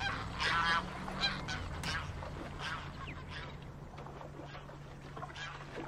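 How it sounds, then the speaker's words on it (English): Honking waterfowl calls from ducks in The Last of Us, a repeated cluster of loud honks early on, then fainter calls over a low steady hum from the game's waterside setting. "Dude, where are the ducks?"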